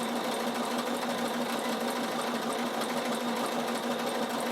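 Bernina sewing machine running a satin stitch, a fast, even mechanical whirr with a steady motor hum, close up and alone.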